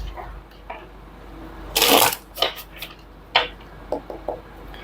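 Tarot cards riffle and shuffle in a short burst of papery flutter near the middle, followed by a few softer card snaps and taps against a quiet room background.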